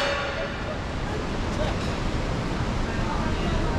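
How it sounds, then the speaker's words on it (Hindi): Mountain waterfalls along the Kedarnath trek near Gaurikund give a steady, broad rushing roar with no pause, constant in level throughout. "और ये देखिए झरने वगैरह, यहाँ से ऊपर से वो वहाँ तक झरने आ रहे हैं"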